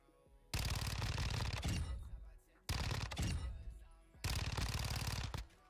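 A VX Pineapple submachine gun fires in three sustained full-auto bursts in a video game, each a loud rapid rattle of shots separated by short pauses.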